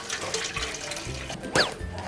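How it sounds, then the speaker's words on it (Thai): Water runs and splashes steadily into a cooking pot, close by, with a brief brighter gurgle near the end. "ขั้นตอนแรกคือเทน้ำลงไปก่อน"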